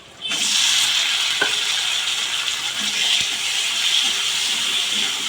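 Chicken curry dropped into a hot pan, bursting into a loud, steady hissing sizzle that holds bright and close, with a few small pops and clinks.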